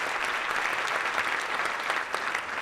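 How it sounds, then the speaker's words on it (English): A conference audience applauds panel speakers at a regional economic summit: dense, steady clapping from a sizable crowd, sustained evenly throughout the short burst. "So give a nice round of applause for"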